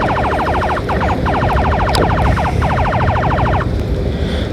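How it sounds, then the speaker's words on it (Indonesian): An ambulance pulsar siren fires rapid bursts of rising, stuttering tones in three loud groups with short gaps between them, close and alone over a constant background hiss. "Sirine yang selanjutnya yang sering digunakan ambulans adalah jenis sirine pulsar."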